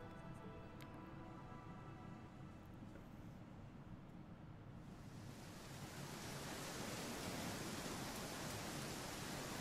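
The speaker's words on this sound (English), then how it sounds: "It rains." Rain in the fantasy role-playing game Pathfinder: Kingmaker, a steady broadband hiss that starts softer and swells into a dense, loud downpour about halfway through, continuous with no talking.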